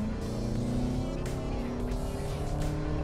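A Toyota RAV4 hybrid SUV with a 2.5-litre four-cylinder, 16-valve petrol engine accelerates on a coned test track, giving a steady, close engine drone with road and tyre noise throughout.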